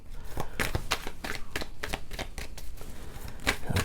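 Tarot cards are shuffled by hand in quick, crisp riffling bursts, close and fairly quiet, with no talking.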